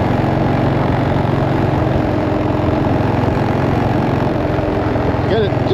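A 2007 Buell Blast motorcycle engine idles while warming up, with a steady, close, low rumble and an even throb throughout.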